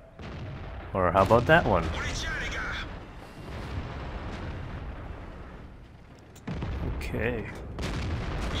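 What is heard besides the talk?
tank gun firing in World of Tanks video game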